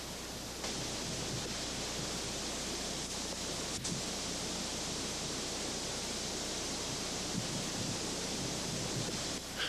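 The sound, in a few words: ocean waves washing over lava flow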